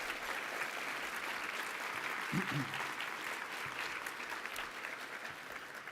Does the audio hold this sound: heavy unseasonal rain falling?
no